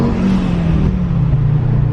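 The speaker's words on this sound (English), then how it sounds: "The blow off noise sounds amazing in this car." A Volkswagen Golf R converted to a 2.5-litre turbocharged five-cylinder, with a fault causing piston and spark plug interference, revs loudly and close up in a continuous growling drone whose pitch shifts, with no distinct blow-off hiss.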